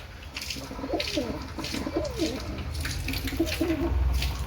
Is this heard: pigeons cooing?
yes